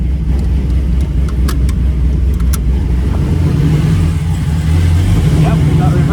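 A Toyota Prius with a 6.0L engine swap rumbles at low revs while shifting into reverse, a steady deep engine drone up close with a few faint clicks and small rev changes.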